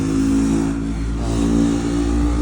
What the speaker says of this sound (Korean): 오토바이 소리 들리시죠?